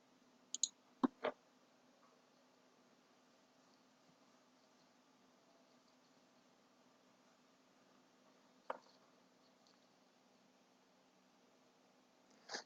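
Sharp, quiet computer mouse clicks in a quiet room: a quick cluster of three or four near the start, a single click around the middle, and one more at the very end.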